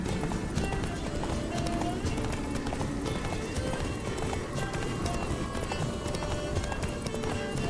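A horse gallops in The Witcher 3: Blood and Wine video game, with steady rapid hoofbeats running continuously under game music and someone talking.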